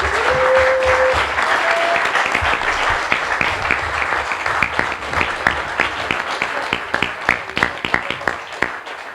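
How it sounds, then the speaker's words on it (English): Sustained applause from an evening forum audience at a 2019 District 1 Assembly candidate event, a dense wash of clapping that thins into scattered individual claps toward the end. "Let's give them a big round of applause"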